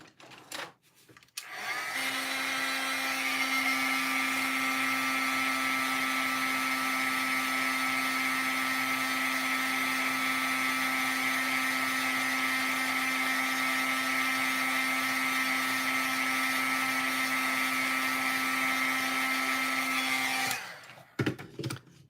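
An embossing heat gun blows steadily for about eighteen seconds, melting embossing powder on cardstock, a loud even whirring hum with a constant motor whine that starts and stops abruptly, with no talking over it.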